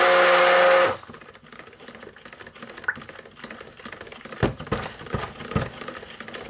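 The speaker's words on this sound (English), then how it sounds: "a bit of stick blending." Stick blender mixing honeyed fig and saffron soap batter in a container, a loud steady whir for about a second, then stops, leaving faint scraping and a few soft knocks.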